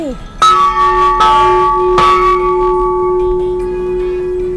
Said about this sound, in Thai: เดี๋ยวเราจะเคาะระฆังให้ ทุกคนทุกท่านนะคะ